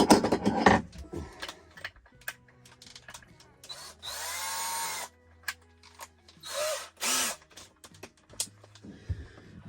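A power drill whirs in two short bursts, close by, between clicks, clatter and scattered handling noise.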